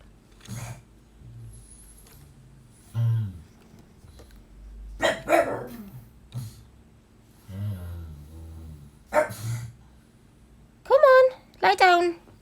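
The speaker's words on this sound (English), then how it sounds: "there was a dog barking outside" A dog barks in short, sharp yelps near the end, after sparse speech and quieter sounds at close range in an indoor room.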